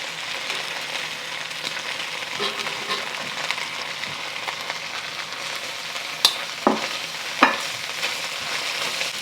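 Mushrooms and onions sizzle in fat in a hot pan, a steady frying hiss running throughout with a few sharp clinks and scrapes of stirring near the end.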